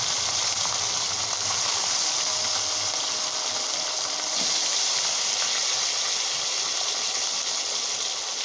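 Fish frying in hot oil, a steady broad sizzle and hiss, fairly quiet and even throughout with no talking.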